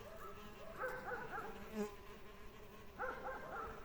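Osmia mason bees hum around an insect house in sunshine, a faint buzzing that swells twice as bees pass near, over steady outdoor background.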